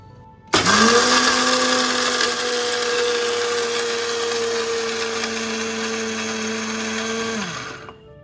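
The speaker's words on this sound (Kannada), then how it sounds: "ಈ ಥರ ಮಿಕ್ಸಿ ಮಾಡ್ಕೋಬೇಕಾಗುತ್ತೆ" A kitchen mixer grinder whirs at a high, steady pitch for several seconds as it blends tamarind, jaggery and salt into chutney, starting abruptly, running loud and close, then winding down.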